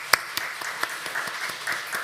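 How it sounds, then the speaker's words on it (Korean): A church congregation at a Sunday morning service applauds to bless a newly married couple, with steady, fairly even claps from a modest crowd at close range. "우리 한번 박수로 축복하면 좋겠습니다"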